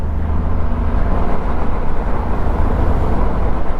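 A Suzuki-powered Caterham Seven 170, the lightest Caterham, driving through corners: a continuous loud, rumbling engine and road roar heard from on board, steady with slight fluctuations and no talking.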